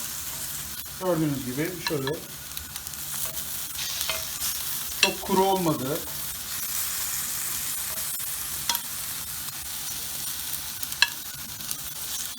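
Chicken seasoned with black pepper sizzles and crackles steadily in a hot pan, with stirring scrapes and a few sharp clinks while someone talks briefly over it.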